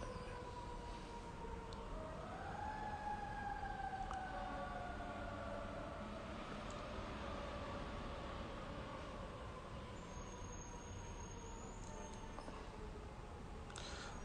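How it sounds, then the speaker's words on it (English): Distant sirens wail faintly, their rising and falling tones drifting over a quiet background hum. "No, they're not DC sirens."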